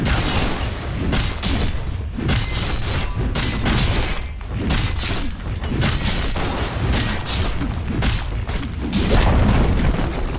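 Repeated heavy booms and crashing impacts as a tower is destroyed in the Dota 2 video game, a dense barrage of loud thuds and bursts arriving in quick succession for about ten seconds.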